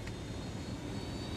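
Helicopter flying in the Ghost Recon Wildlands video game, a brief, steady engine hum with no talk.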